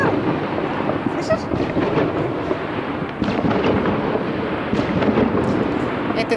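Continuous distant popping and crackling of fireworks under a noisy outdoor wash, with occasional sharper bursts and faint shouting voices.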